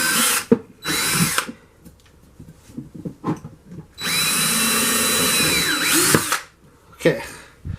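A power drill bores holes in an RC car in several bursts: two short whirs early on, then one long steady run that winds down. Small taps and handling knocks fill the gaps between bursts.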